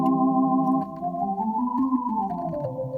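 A Lowrey organ sustains a chord with its 16 and 4 tabs sounding together, a steady, full tone with rich layered harmonics and a slight pitch drift near the end, played alone.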